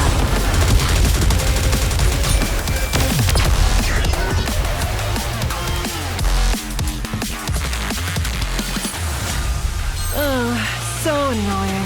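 Gunfire from the video game NIKKE comes as rapid, dense bursts of shots and crackling blasts over game music and effects, ending in rising synthetic tones.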